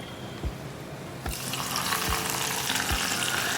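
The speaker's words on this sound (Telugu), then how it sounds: "ఇలా ఫ్రై అయ్యాక ఇప్పుడు పప్పుచారులో వేసేసుకుందాం" Curry leaves and onion fry in hot oil as a tempering for dal, hissing steadily with several soft thumps and stirring knocks before the sizzle grows broader and louder.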